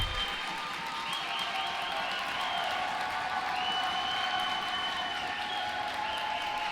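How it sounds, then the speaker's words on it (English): A basketball crowd in a gym keeps up a steady roar of cheering and noise throughout, with some whistles and clapping in the mix, while a commentator talks over it. "you can hear the crowd start to make some noise"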